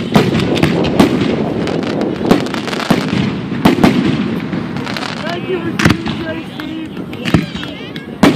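July 4th fireworks bursting at close range in Margate, New Jersey, a rapid series of sharp loud bangs and crackles with voices of people in the crowd underneath.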